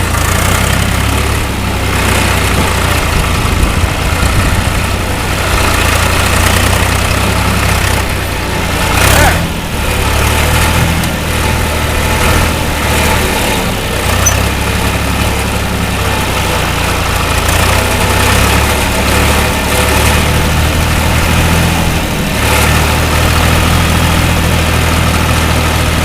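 A John Deere 2240 tractor's diesel engine runs steadily in first gear while doing chores, a loud, constant low rumble and idle-like throb with vibration, briefly dipping around the middle and holding close throughout with no talk.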